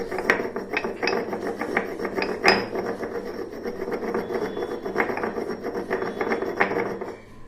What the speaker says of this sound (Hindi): इस पत्थर को घिसता हूँ मैं काफ़ी देर तक।